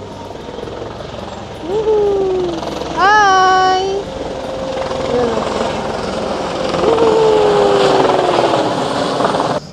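Commercial helicopters fly overhead, giving a steady whirring rotor and engine drone throughout. Voices talk and call out over the noise.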